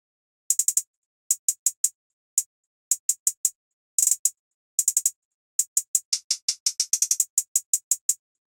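Crisp, bright hi-hat hits from an FL Studio beat tick in a syncopated, groovy pattern with gaps and quick rolls, heard alone and dry.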